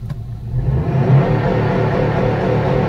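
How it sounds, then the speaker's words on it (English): A manual car in neutral with the clutch in, fitted with a Cobb Accessport launch control, revs up quickly and then holds at a steady, loud engine drone for several seconds. "See, it revs up and it holds there."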